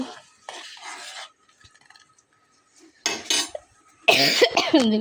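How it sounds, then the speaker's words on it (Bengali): Noodles cooking in a pot, with sharp metallic clinks and scraping of utensils against the pot in short bursts between quiet gaps, plus a brief vocal sound near the end. "মুসকানোর জন্য নুডলস রান্না করতেছি"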